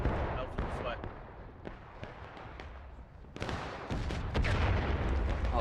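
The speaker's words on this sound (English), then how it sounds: "Oh crap, that's grape shot from a cannon." Grapeshot cannon fire booms across a Civil War battlefield in War of Rights, a heavy blast landing midway, followed by louder rumbling and scattered crackling. Voices and background battle noise run throughout.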